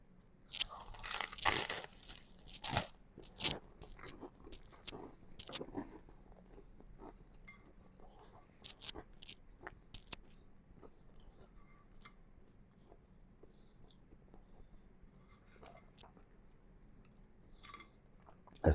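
Crisp bites and crunchy chewing of an air-fried ham and cheese toasty, close and fairly loud at the start, then a steady run of softer crunches and mouth sounds that fade toward the end, with no talking.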